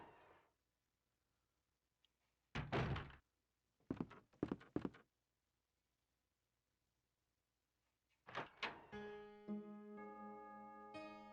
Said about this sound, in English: See if this door leads to where I need to go.